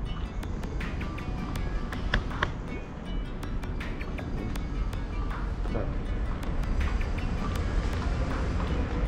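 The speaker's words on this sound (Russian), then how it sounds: "Мы входим в метро." Underground Moscow metro station ambience: a constant low rumble of trains and machinery with sharp metallic clicks and clatters scattered throughout, moderately loud and steady.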